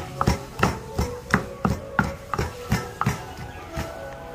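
Ingredients for Nom Banh Chok being pounded and crushed, a steady series of about a dozen solid, close thuds at a regular rhythm with no talk.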